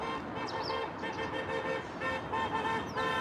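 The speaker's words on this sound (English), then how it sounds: "We've got some honks of support behind us here." Car horns honk in support from passing traffic behind a street protest outside a cow slaughterhouse, several faint, distant toots sounding over steady road noise.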